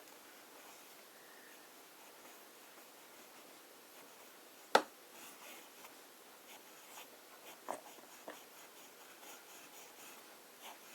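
A broad-nib fountain pen scratches faintly across paper in a quiet room, with soft intermittent strokes and one sharp tap of the pen partway through, no talking.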